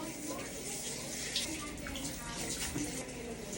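A patient's hand rinsed with water during home care, a steady trickle and splash of running water heard close, with a faint voice in the background.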